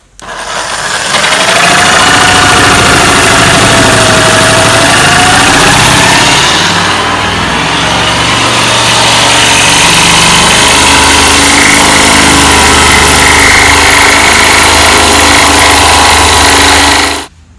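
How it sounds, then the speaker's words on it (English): A jigsaw fitted with a brand new blade cuts through a cherry dining table top, giving a loud, close, continuous buzzing whine that holds steady for over fifteen seconds before cutting off. "So I'm going with the jigsaw."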